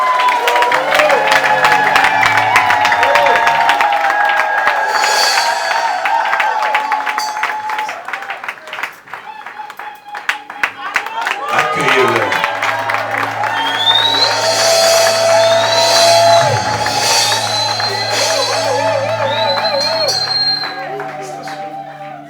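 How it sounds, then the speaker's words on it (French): A church congregation applauds and cheers loudly at the presentation of a new bishop, sustained clapping with shouts and whoops, a voice speaking over the crowd midway as the applause swells again. "Vos applaudissements."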